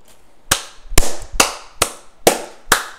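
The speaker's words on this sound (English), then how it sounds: "Boom! Explosions! Michael Bay! Explosions!" Six sharp, loud cartoon explosion bursts from the Happy Wheels video game, spaced roughly half a second apart, each a sudden crack with a short fading tail, with no talking over them.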